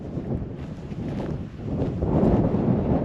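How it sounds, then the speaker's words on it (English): Wind rushes and rumbles against the microphone near the Wyoming border, dipping briefly before gusting stronger again. "it's windy because we're right next to Wyoming, and Wyoming is windy"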